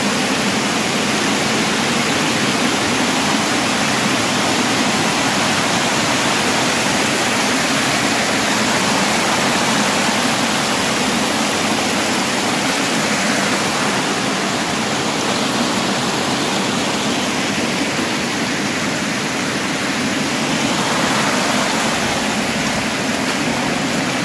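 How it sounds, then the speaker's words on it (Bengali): The waterfall at Murguma Dam in Purulia roars with a dense, steady rush of falling water, loud and unbroken throughout. "এই যে দেখতে পাচ্ছি ওয়াটারফল, মুরগুমা ড্যামের ওয়াটারফল।"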